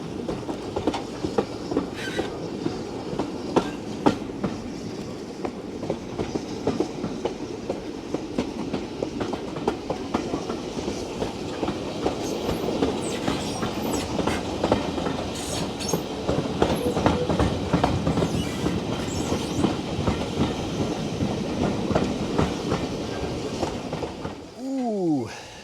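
A Swanage Railway steam train runs on the tracks near Corfe Castle, with steady rumbling and rhythmic clickety-clack of wheels throughout, close and continuous, ending in a brief high wheel squeal.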